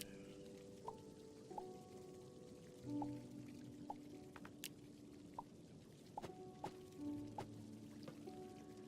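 Plants being watered in the video game Starbound, with a soft pouring, dripping patter and a few squishy splashes. Several brief tones sound over a steady hum of game music, and no one speaks.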